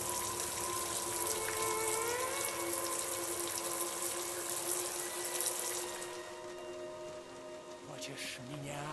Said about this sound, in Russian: Душ открываем.